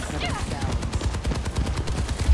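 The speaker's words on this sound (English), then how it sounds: "I'm gonna keep shooting, bro." Rapid gunfire in the video game Overwatch 2, a continuous burst of quick repeated shots with game effects, heard alongside voice chat.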